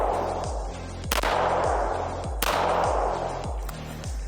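FN High Power 9mm pistol fired in a rapid string of about five or six loud, sharp shots outdoors, each crack followed by a short decaying echo.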